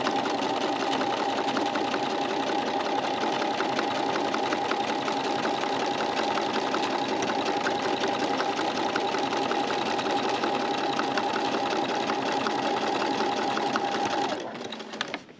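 A sewing machine runs in one steady, continuous stitching burst while quilting along the edge of a quilt-as-you-go block, close and loud, then stops abruptly near the end.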